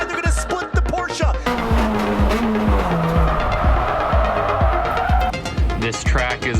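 Several race cars, one of them a Porsche, run side by side on a circuit, engines roaring loudly with a rising whine and repeated low throbbing pulses, tires squealing briefly, and no voices over the noise.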